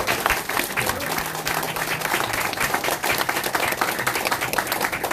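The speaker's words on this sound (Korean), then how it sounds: "박수 한번 보내주시기 바랍니다" Audience applause at a Liberty Korea Party event in Jeju welcoming a new member, sustained crisp clapping from a crowd that runs continuously and evenly throughout.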